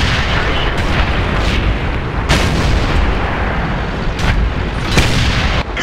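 Tank cannons boom again and again in a tank video game battle as several tanks fire on a Centurion, with loud, heavy blasts landing in quick succession over a constant rumbling battle din.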